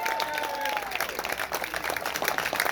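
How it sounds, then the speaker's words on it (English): A crowd at a political event claps in honour of the military, a brief, continuous burst of applause at a fairly low level, with faint voices beneath it. "Round of applause for our military."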